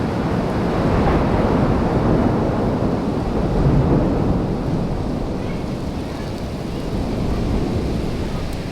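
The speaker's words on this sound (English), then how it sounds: "It's raining like crazy." Heavy rain pours steadily on a New York street, a dense, continuous rushing hiss with low rumbling undertones that holds at an even level throughout, with no voices over it.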